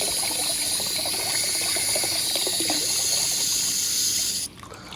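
Water runs steadily into a pot being filled for trap waxing, a continuous close splashing and pouring that cuts off abruptly near the end.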